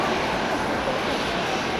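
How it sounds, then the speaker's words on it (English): A Japan Airlines jet arriving from Hiroshima at Haneda produces a loud, unbroken engine rumble with a dense hiss, steady across the brief moment and with no voices over it. "We've got some little Japan Airlines"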